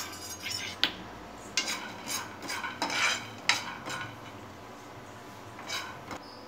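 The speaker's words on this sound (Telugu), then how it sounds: "ఇలా ఆయిల్ లేకుండా వితౌట్ ఆయిల్తో డ్రై రోస్ట్ చేసుకోవాలి" Peanuts dry-roasting in a pan with no oil, stirred now and then, giving soft rattling scrapes and clinks over a faint steady hiss, fairly quiet and close, without any voices.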